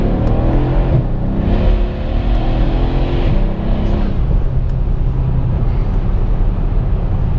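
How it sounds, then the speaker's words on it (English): A Mercedes-Benz W212 E63 AMG engine spools loudly and steadily in the cabin, its roar rising and then briefly dipping at an upshift before carrying on strongly, with no talk over it. "you hear that full spool. And you get a really, really nice upshift sound and downshift"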